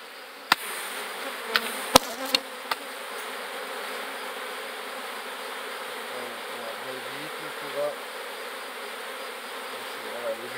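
Many honey bees buzz together in a steady, dense drone, with a few sharp clicks and knocks near the start and occasional closer buzzes passing by.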